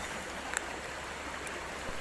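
A jungle stream flows steadily nearby, a continuous soft broadband rush with a couple of faint clicks over it.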